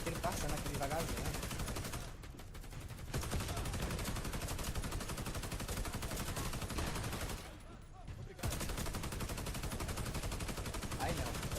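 Heavy, continuous rapid automatic gunfire from a video game, close and loud, runs through the whole stretch, broken by two brief pauses, with people talking faintly underneath.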